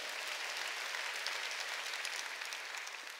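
A church congregation claps during a Sunday worship service, a sustained wash of many hands clapping together, even and continuous and fading slightly at the end, with no talking.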